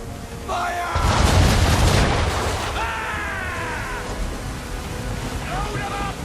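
Ship cannons fire in Assassin's Creed 3 naval combat, a heavy deep boom erupting and rolling off amid rushing sea and wind, with shouting crew voices and whistling around it.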